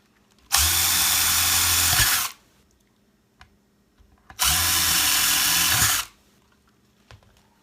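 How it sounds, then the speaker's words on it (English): A power drill runs in two loud, sustained bursts of about two seconds each while drilling holes in a bench, separated by a pause with faint clicks and handling noises. "I'm just going to drill some holes"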